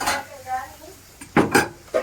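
A lid goes onto a cooking pot of fish curry: a few close metallic clanks and scrapes of metal on metal, with brief talk early on.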